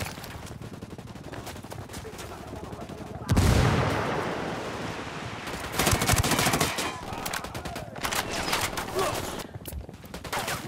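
Heavy gunfire crackles through a Ghost Recon Wildlands firefight near an airstrip, with sharp loud volleys, a big blast around the middle and continuing bursts, under occasional background voices.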